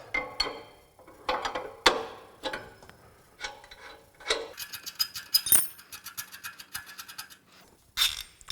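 Metal clicks and ratcheting ticks as a wrench loosens a 33mm lock nut on a Toro Dingo TX 1300 compact utility loader, a series of short irregular taps and rattles, close and fairly quiet.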